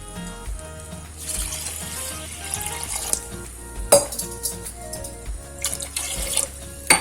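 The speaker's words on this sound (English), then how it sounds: "To this we are going to add 4 cups of water." Four cups of water pour and splash into a metal pot for sweet pongal at close range, with a few clinks of the vessel and gurgling as the stream shifts.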